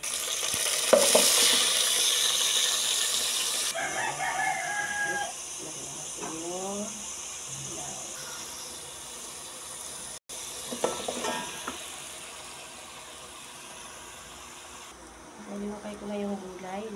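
Chicken pieces sizzle and fry in a pan for Filipino pakbet, with a steady hiss that grows softer after the opening seconds and occasional stirring scrapes, while someone talks quietly over the cooking.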